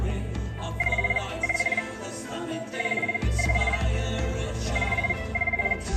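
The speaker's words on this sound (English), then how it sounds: "Oh, we got a phone call." A telephone rings with an incoming call, repeated short trilling bursts in a regular ring-pause pattern, mixed over a busy background of music and ambient sound.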